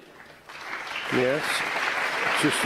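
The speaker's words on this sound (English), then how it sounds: "Yes, justified applause." Applause from a snooker crowd at a 2017 semi-final between Perry and Hawkins, soft at first and then steady, under a commentator's voice.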